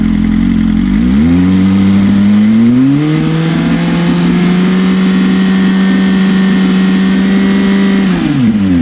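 BMW M1000RR motorcycle fitted with an aftermarket exhaust revs up and holds a steady 5000 RPM, a loud, close, sustained engine drone that drops away at the end.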